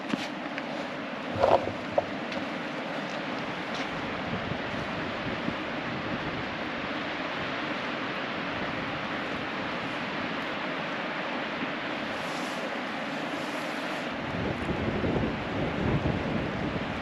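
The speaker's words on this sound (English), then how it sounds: "And it's very windy today." Strong wind at a rocky outcrop in Fall Creek Falls State Park roars steadily into a directional microphone, a dense, continuous buffeting rumble with a few brief thumps and a swell near the end.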